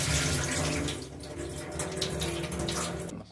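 Pieces of chicken meat are rinsed under running water, giving a continuous close splashing and gurgling stream that briefly dips before carrying on.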